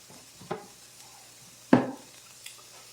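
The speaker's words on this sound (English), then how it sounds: "We're going to stir this around a little bit, just to incorporate everything pretty good" A utensil stirs chicken and zoodles with red sauce in a pan, giving two distinct scraping clunks, the second louder, over a faint background sizzle with no voices.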